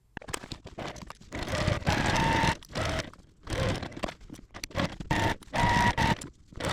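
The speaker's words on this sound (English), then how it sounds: "I'm going to take this to the sewing machine and sew 1/4 inch around all of the sides." Sewing machine stitching a quarter-inch seam around a mini quilt's facing in repeated bursts, stitching for a second or so and pausing, with a close mechanical whir and rattle.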